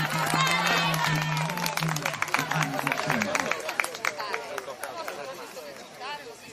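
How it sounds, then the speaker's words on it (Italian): Crowd at a Sardinian horse-riding festival race clapping for a rider amid chatter and shouts, scattered claps under a loudspeaker announcer's voice that fades as the babble continues. "Un grande applauso per"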